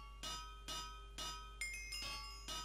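In the Minecraft Pixelmon mod, a diamond hammer breaks blocks in quick succession, giving about six bright, ringing metallic hits at a steady pace over a low constant hum, with no talking.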